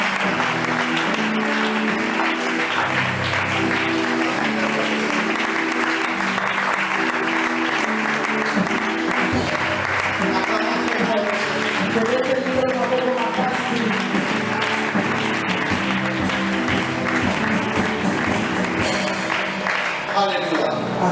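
A church congregation at a Thursday anniversary service claps steadily and loudly for the whole stretch, a dense unbroken wash of applause with voices mixed in.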